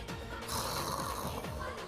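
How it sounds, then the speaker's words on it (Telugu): A person snores at night in a quiet room, a faint, low, rasping rumble that rises and falls over a short stretch with no talk. "ఈ గురక సౌండ్ ఏంటి?"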